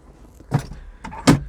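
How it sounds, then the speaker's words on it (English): A Vauxhall Viva HC's manual window is wound by hand inside the car, making two short, close mechanical bursts of winder and glass movement with a pause between them. "Winding windows, of course."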